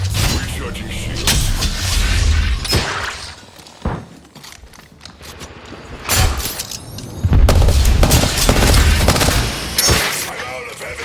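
Gunfire in the shooter game Apex Legends, loud booming shots and bursts in clusters with quieter gaps between, mixed with footsteps and impact noises during a firefight.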